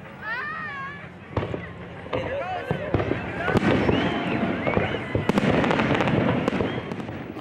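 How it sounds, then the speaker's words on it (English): Fireworks launched from a barge whistle upward and burst with sharp pops and crackles, one after another, as people talk and children call out nearby. "the first firework was launched from the barge"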